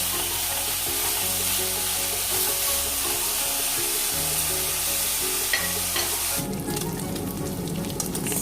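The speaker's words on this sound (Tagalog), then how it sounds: "Nagiging crispy na yung ating bacon." Bacon frying in a pan until crispy, a loud, close, continuous sizzle with stirring scrapes, swelling into a brighter, harsher crackle near the end.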